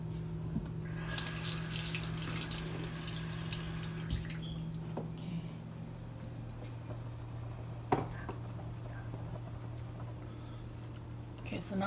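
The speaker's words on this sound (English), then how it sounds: "skim it and wash it in the sink" Tap water runs steadily into a kitchen sink while a pot is washed, with occasional clinks of metal and dishes, close by and moderately loud, and a voice speaking partway through.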